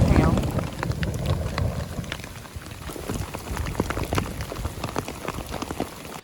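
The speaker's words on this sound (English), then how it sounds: "That's all hail." Hail pelts a tarp during a storm, a dense, loud patter of hard pops and crackles over gusty wind rumble, continuing for several seconds.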